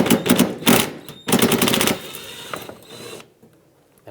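A ratchet clicks rapidly in bursts while backing a 10mm screw out of the fender area beside the headlight on a 2013-2020 Nissan Pathfinder, loud and close, with several quick runs of ratcheting then a pause.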